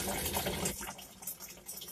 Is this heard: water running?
yes